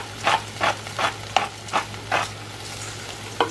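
Mushroom meatball mixture sizzling in a frying pan, with a series of regular scraping stirs breaking through a steady low frying hiss.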